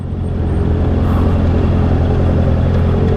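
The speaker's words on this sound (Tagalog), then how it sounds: "Ayan o. Ito yung traffic eh." Congested city road traffic, heard from a Honda CB650R motorcycle: a close, continuous low engine rumble with idling and a mix of cars and motorcycles, steady and loud.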